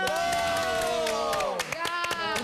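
A television studio audience claps and cheers loudly in a continuous burst, with whoops rising over the applause while a singing voice carries on above the crowd.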